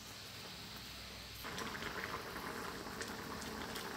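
Bananas simmering in coconut milk in a pot, a steady close bubbling boil that grows louder and denser partway through as more coconut milk goes in, continuing alone without speech.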